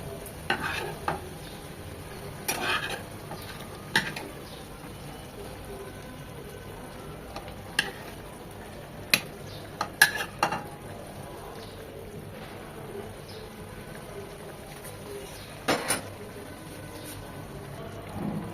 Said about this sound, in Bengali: এখন খুব ভালোভাবে এটা ফুটে আসা পর্যন্ত অপেক্ষা করব।